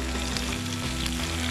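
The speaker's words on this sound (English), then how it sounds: "Sizzle." Squid rings sizzle loudly in hot oil in a small mini pan, a dense, steady crackling fry that carries on without pause and without speech.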